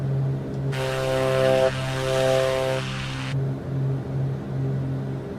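Steady drone of the Black Square Grand Duke twin-engine plane in Microsoft Flight Simulator, a constant propeller hum with a louder, brighter engine surge swelling for a few seconds before settling back.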